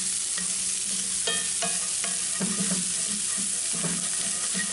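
Butter sizzles and spits steadily in a hot pan, a close, continuous fry with scattered sharper pops and a few light scrapes of a utensil.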